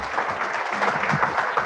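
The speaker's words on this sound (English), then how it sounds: "Big round of applause for these guys." An audience at a conference presentation claps warmly, a dense, even patter of many hands that stays close and fairly loud throughout the short stretch.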